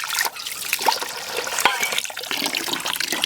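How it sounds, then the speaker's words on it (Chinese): Wild shrimp are rinsed by hand in water, with close, irregular splashing and trickling as they are swished and stirred in a bowl. "把这虾给淘洗一下"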